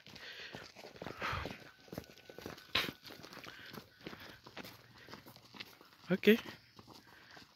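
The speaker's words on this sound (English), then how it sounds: "So, you can hear the footstep. Those are kids behind me." Children's footsteps passing close behind on a hillside path in an African village, a run of irregular scuffs and crunches mixed with a voice talking over them.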